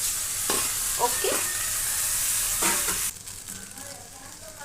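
Vegetables and small multigrain pasta sizzle and fry in a pan, with several sharp stirring scrapes over a steady hiss that drops quieter near the end; a voice speaks briefly.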